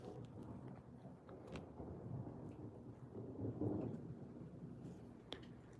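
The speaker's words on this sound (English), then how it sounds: "Either that's a really loud plane or we're getting some really bad storms pretty soon." Distant thunder from an approaching storm rolls as a faint, low rumble that swells briefly midway, with no voices over it.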